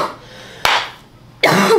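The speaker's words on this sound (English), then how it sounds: "I can't stop coughing" Two sharp, harsh coughs separated by a short pause, close and fairly loud.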